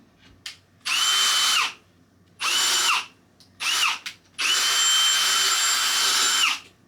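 A power drill whirs loudly in four bursts while drilling holes in a child's bedroom being redone, revving up and winding down between pauses, close by with no talking.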